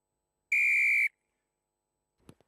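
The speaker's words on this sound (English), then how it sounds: "Shrill blast of the whistle." A referee's whistle gives a single loud, shrill blast lasting about half a second to start an under-15 rugby festival match, followed by silence and a few faint knocks.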